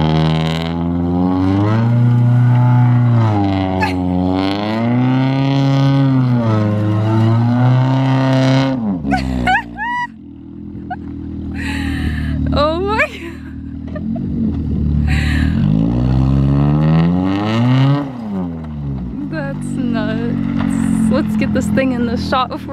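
A car engine, on a Wagovan, revs up and down in repeated rising and falling sweeps, then loses power and bogs down before picking up again; loud and close, with people talking between the revs.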